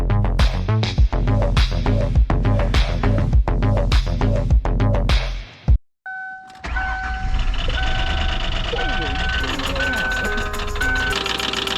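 A 2001 Lincoln Continental engine idles loudly with a steady rapid knocking from a worn rod bearing, then cuts out briefly before a different mechanical drone with high tonal whines takes over.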